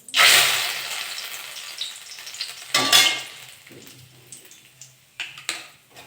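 Neem leaves hit hot mustard oil in a pan with a loud, sharp sizzle that quickly settles into quieter crackling and spitting, a second hissing burst following a few seconds later.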